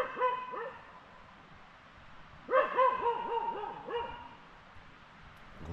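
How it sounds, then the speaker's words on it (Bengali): A dog barks outside at night near a Darjeeling-area adventure camp, a mid-distance burst of several rapid yips and barks in the middle of the stretch, with fainter whimpering barks before it over a quiet background. "দেখো কুকুরটা তখন থেকে সে ভুক ভুক করেই যাচ্ছে।"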